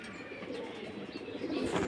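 Racing pigeons returning to their loft give soft, close coos and a few chirps over faint outdoor background noise, with no voices.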